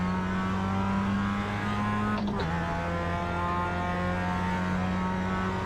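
Mazda MX-5 race car engine in the iRacing sim, a steady loud harmonic drone held at near-constant revs, with a brief break and a drop in pitch partway through like a gear change, then droning on.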